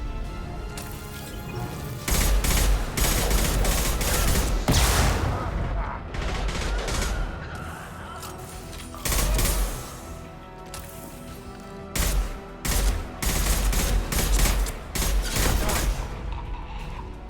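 Rapid gunfire from the video game Mass Effect 2, with repeated loud bursts of automatic shots and crashing impacts over about seventeen seconds, separated by short lulls.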